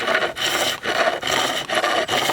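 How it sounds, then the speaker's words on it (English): A flat chisel chatters against wood in quick rough scraping strokes at too steep an angle, each stroke a rasping burst separated by short pauses. "You can hear what happens, it starts chattering, so bring it back"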